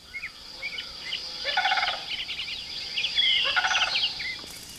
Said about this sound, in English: These tall and stately birds are the sandhill cranes.